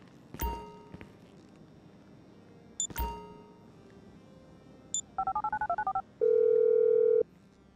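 A phone is dialed in Grand Theft Auto V: a couple of sharp clicks, a rapid run of distinct keypad tones, then a single sustained steady tone, all fairly loud and clear.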